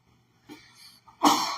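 A single sharp sneeze bursts out loud and close near the end, preceded by a softer breathy intake and murmur, in an indoor lecture setting.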